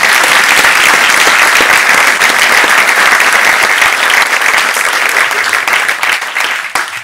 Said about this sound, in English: I would like to give you a hand of applause.